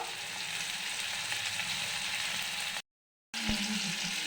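Ginger, tomato and slit green chillies fry in a pan, giving a steady close sizzle that cuts out briefly to silence. A soft clunk follows as the frying resumes.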